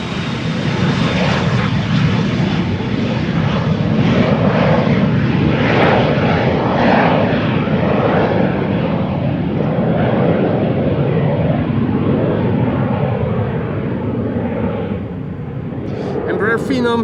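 An Embraer Phenom 300 business jet departs Amsterdam Schiphol, its engines giving a steady loud roar through the whole stretch, with a person talking over it.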